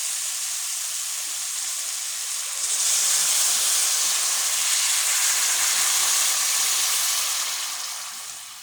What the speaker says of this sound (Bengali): সবজিটা প্রায় কষানো হয়ে গেছে, এখন একটু ঝোল দিয়ে দেব।